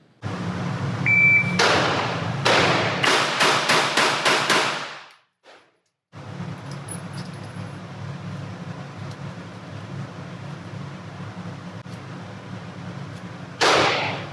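Six rapid Glock pistol shots fired from low ready at about 5 yards, loud sharp cracks in a quick string over a few seconds, followed by steady range background noise and another burst near the end.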